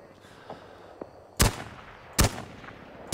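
Two loud, sharp sniper rifle shots in the Rising Storm 2: Vietnam shooter, NLF side, each a hard crack with a short decaying tail about a second apart, with fainter distant gunfire pops before them and no talking.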